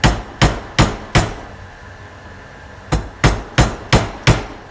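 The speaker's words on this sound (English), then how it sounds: "And the dead blow hammer." A dead blow hammer taps a wooden dowel to seat an oil seal on a 1981 Yamaha G1 golf cart, striking four sharp, evenly spaced blows, pausing, then five more close and loud.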